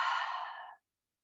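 A single long exhale out through the mouth during a winter solstice yoga breathing practice, a soft close breathy rush lasting under a second and then stopping into silence.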